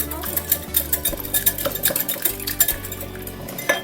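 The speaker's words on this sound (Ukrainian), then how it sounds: "Ось так гарно вимішуємо, щоб сметана з'єдналася" Utensil scraping and clinking against a bowl while a filling with sour cream and egg is stirred briskly, with repeated close taps of metal on the rim.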